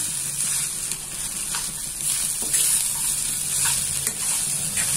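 Poha is sautéed in a pan over raised heat for matra pohe, a steady close sizzle broken by repeated scraping and stirring knocks throughout.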